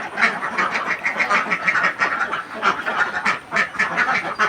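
A flock of ducks sick with duck plague quacking continuously and close together, overlapping nasal calls in a busy, uneven chorus with no voices.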